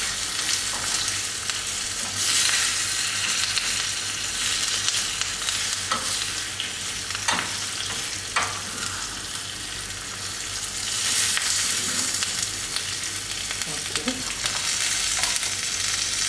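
Curry leaves and grated ginger sizzle in hot oil while a small spoon stirs them, giving a steady, moderately loud frying hiss broken by a few light scrapes and taps.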